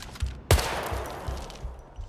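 A gunshot in the video game HITMAN on the Isle of Sgail, a single sharp, fairly quiet crack followed by a decaying echo over faint low thumps.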